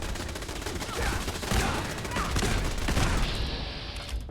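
Gauss rifle shots and other gunfire fill a Fallout 4 battle, a dense, loud fusillade of overlapping blasts with no clear gaps between them.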